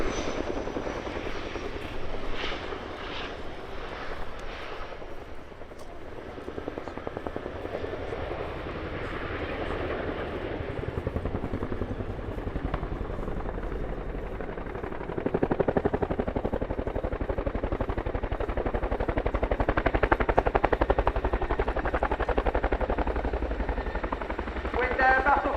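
An RAF Chinook HC.6 twin-rotor helicopter manoeuvres at an air show, its steady rotor thrum and engine roar filling the air and swelling louder midway, with an announcer's voice faintly over it.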